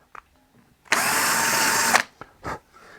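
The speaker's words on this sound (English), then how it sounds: "what you can do with your cordless drill is just put it in the hole" A cordless drill spins a round grinding stone against the edges of a guitar neck in one loud, steady whir of about a second, followed by a few faint handling knocks.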